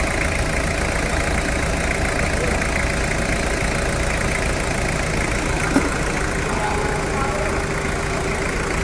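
A 2002 Toyota SW4 pickup engine idles steadily nearby, an even low rumble with a faint knocking texture that holds unchanged throughout.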